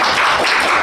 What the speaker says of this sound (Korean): 수고하셨는데 우리 박수 한번 칠까요?